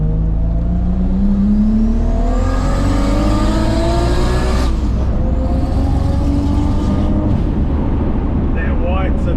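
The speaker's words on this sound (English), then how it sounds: "That white sedan sounds so angry, popping flames out of the exhaust." Nissan GT-R race cars roar past on a drying track, with engines revving up through rising pitches and exhaust popping, loud and close, while a voice talks over the noise.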